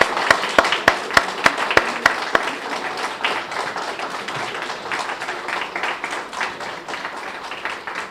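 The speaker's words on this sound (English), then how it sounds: "So my MHMC team, please stand so that you can be appropriately applauded." A seated audience applauds a standing medical mission team at a vascular surgery mission opening ceremony, opening with a few sharp, evenly spaced claps that swell into sustained, dense applause from a crowd filling the room.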